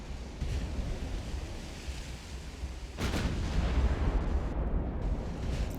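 Naval combat in the video game Ultimate Admiral: Dreadnoughts: a low, rumbling wash of distant gunfire and explosions that swells into a heavier boom partway through and stays loud, with no talking.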